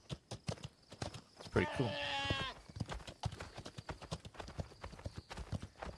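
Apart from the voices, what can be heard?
mule hoofbeats while riding, from video game The Legend of California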